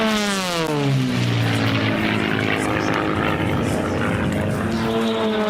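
Propeller racing airplane engines roar loudly as aircraft sweep past close by at the Reno Air Races, with a falling pitch as they pass.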